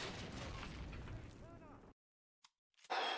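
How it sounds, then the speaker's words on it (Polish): A grenade goes off in the 2003 Call of Duty game, heard as a rumbling burst mixed with game noise, then sudden silence broken by a short pop and another loud burst. "dlaczego ten granat wybuchł"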